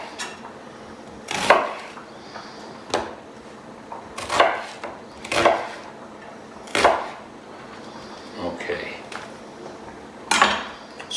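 A knife cuts through an onion on a board in a home kitchen, giving about eight or nine crisp, separate chops spaced irregularly, each one close and distinct against a quiet room.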